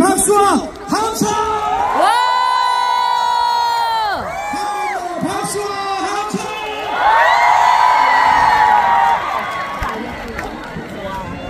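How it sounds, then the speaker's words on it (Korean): A large outdoor crowd at a provincial sports festival concert in Gyeongbuk claps and cheers loudly, with whoops and shouts; a singer's amplified voice rings out between bursts, the cheering swelling strongly near the end. "다시 한번 마지막으로 다같이 박수와 함성"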